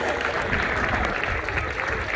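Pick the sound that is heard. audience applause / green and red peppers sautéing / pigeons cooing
audience applause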